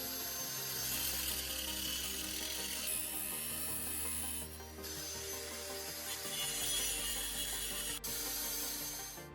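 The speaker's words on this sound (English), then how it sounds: "Cut off the extra length of the spoon handle using a cutting tool." Cutting tool slicing off the metal handle of an ordinary spoon, a close, loud grinding and rasping that changes pitch in stretches and halts briefly midway before resuming.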